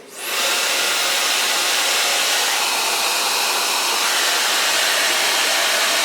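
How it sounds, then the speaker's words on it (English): A hair dryer fitted with a diffuser blows on permed curly hair, switching on and then roaring loud and steady at close range without a break. "Gonna blow dry this with diffuser."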